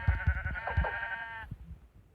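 A Minecraft sheep gives a single wavering bleat close up, with soft blocky footsteps thudding underneath.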